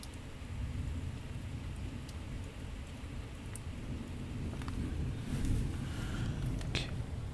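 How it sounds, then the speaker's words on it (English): Steady rain falls outdoors during a windy storm, a continuous close hiss of drops with scattered louder splashes and a faint low rumble underneath. "Looks like the rain slightly slowed down."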